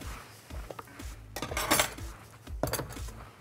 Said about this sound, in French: Je les mets dans un récipient.